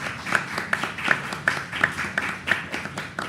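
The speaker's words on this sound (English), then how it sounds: "let's have a huge round of applause for Srinath here" Sparse, rhythmic hand clapping for a guest at a chess commentary panel during a FIDE World Cup broadcast, a few people clapping in a steady beat of roughly three claps per second, fairly close and moderately loud.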